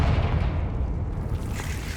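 A Confringo spell blast in the Hogwarts Legacy video game lands as a low, rumbling boom that fills the short moment, moderately loud with no talk over it.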